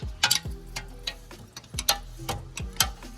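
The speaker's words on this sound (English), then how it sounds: "It's easiest just to grab a wrench, break them loose." Wrench ratcheting and clicking against bolts being broken loose on a single-turbo BMW 335i, a run of sharp, close metallic ticks and clanks in an irregular rhythm with no talking.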